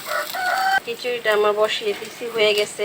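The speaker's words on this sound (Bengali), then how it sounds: "এদিকে আমার মোরগটা ডাকতেছে" A rooster crows in drawn-out, wavering calls close by, overlapping with a person speaking.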